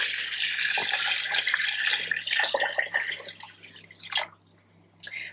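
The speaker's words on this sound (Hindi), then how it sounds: "अब आप इसमें डालेंगे पानी।" Water pours into a cooking pot for chicken shorba, a steady splashing gush that breaks into uneven trickles and drips as the flow slows near the end.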